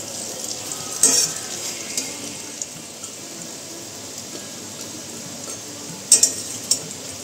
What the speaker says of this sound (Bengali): ভাজছি বড়াগুলো